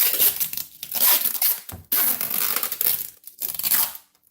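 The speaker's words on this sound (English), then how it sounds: "sorry about the tape noise" Packing tape is pulled and torn off in close, loud ripping bursts with brief pauses between strips, a crackling tearing texture with no voices.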